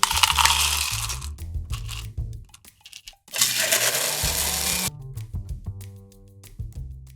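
Nugget ice pours and rattles into a container on a scale, with two loud bursts of clattering tumbling ice separated by quieter clinks and pauses, close and without talk.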